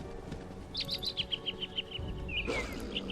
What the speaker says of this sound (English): It's quiet, except for the sounds of birds and other wildlife.